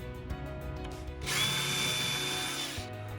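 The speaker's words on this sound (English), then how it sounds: "I'm gonna hit it with my drill." A power drill runs in one steady burst of about a second and a half, drilling into a marked spot while fitting screen hardware; the whine is close and loud over a low background hum, with no talking.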